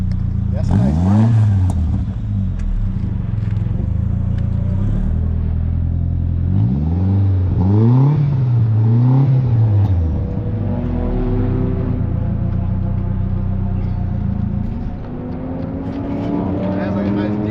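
A Saab with an aftermarket exhaust revs in several rising and falling bursts, giving a deep, moderate growl that is not harsh, with people talking close by throughout.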